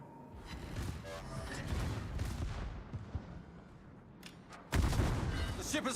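The battleship Fuso fires its guns in a naval video game, heavy booming salvos rumbling at a distance, then a louder, sharper blast near the end over steady ocean and engine ambience.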